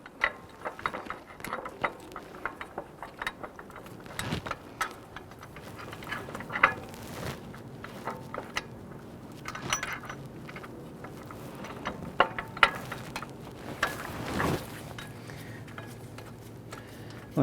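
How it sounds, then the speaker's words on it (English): Bolts threaded in by hand during drive belt work on a 2012–2017 Toyota Camry: scattered small metallic clicks, ticks and ratchety taps, fairly faint and close, with a quiet engine-bay background and no talk. "I'm going to go ahead and get all the bolts started by hand"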